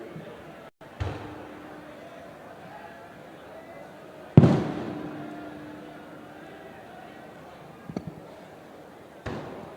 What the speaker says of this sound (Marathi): फटाके नका रे वाजवता